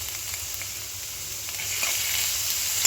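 Ridge gourd with beans frying in hot tempering, a steady close sizzle and hiss that swells slightly toward the end, with no talking.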